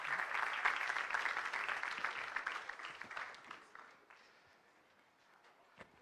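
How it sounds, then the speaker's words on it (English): An audience at PyCon Pune 2017, a Python conference, applauds to welcome a speaker. The dense clapping starts fairly quiet and tapers off over several seconds into near silence, with one stray clap near the end. "Please, with a big round of applause,"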